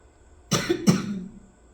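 Two quick, close coughs in a row, sharp and throaty, in an otherwise quiet room with no talking.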